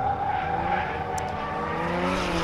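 Nissan S13 drift car in a D1NZ pro championship battle at Hampton Downs, engine roaring steadily with continuous tire squeal and skidding, loud and close throughout.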